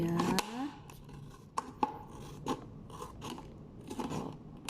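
Scissors snip through a plastic bottle in a few sharp, separate cuts with crunchy crackling between them, close and fairly quiet, no voices.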